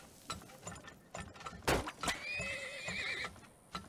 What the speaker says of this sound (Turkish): Beygir.